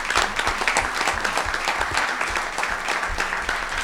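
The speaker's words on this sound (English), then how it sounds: "I want to give a big applause to those who've taken the leadership on that." Steady crowd applause at a veterans' organization gathering, many hands clapping at an even volume throughout, close and alone without talk.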